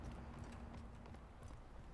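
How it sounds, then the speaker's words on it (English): Footsteps in the Splitgate arena shooter, a steady run of clopping steps at moderate level over constant game ambience, with no talk. "I heard footsteps."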